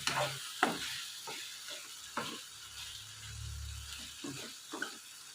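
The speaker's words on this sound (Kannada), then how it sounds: "ಇದನ್ನು ಸ್ವಲ್ಪ ಇದರಲ್ಲಿ ಚೆಂದಾಗಿ ಫ್ರೈ ಮಾಡ್ಕೊಳ್ಳೋಣ" Okra masala for bendi fry sizzles softly in a pan, with intermittent scraping strokes of a spatula and quiet bubbling between them.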